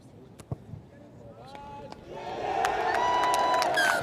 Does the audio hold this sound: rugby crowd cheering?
yes